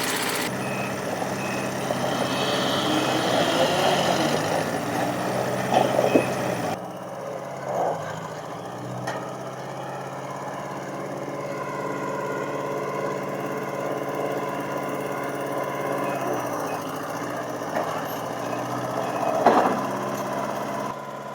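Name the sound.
propane scissor lift engine running and driving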